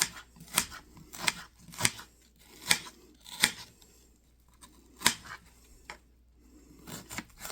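Scissors snipping food finely for a meatloaf, a close series of sharp crisp cuts in an uneven rhythm with a brief lull partway through.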